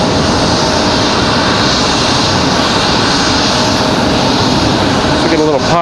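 A Delta CRJ regional jet at Raleigh-Durham International Airport gives a loud, sustained engine roar with a steady whine and a rising tonal sweep near the end, as a voice talks over the noise.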